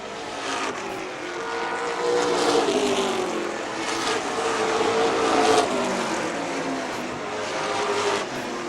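Pro stock race cars at a Norms Used Cars event tear around the track, their engines making a loud, continuous roar that swells and fades slightly as the cars pass, with no talking.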